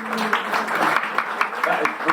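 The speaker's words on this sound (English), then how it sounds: "That's a big round of applause." Audience applause during an interview with members of a band, a brief steady patter of many hands clapping close by, with voices talking over it.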